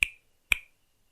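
Two crisp finger snaps about half a second apart, close and clean against silence.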